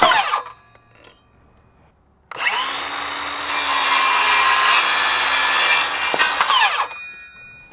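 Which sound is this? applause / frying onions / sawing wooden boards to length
sawing wooden boards to length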